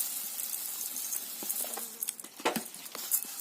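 Dry puffed rice poured onto chopped onion and green chili in a bowl, a light rustling patter with a few scattered brittle rattles, close and quiet.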